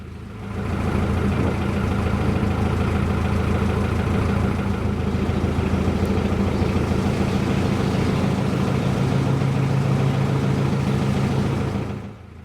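A narrowboat engine with a history of problems runs steadily, giving a constant low throbbing drone that stays loud and unchanging for about twelve seconds, with no voices.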